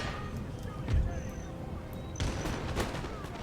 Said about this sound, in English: That's probably the artillery.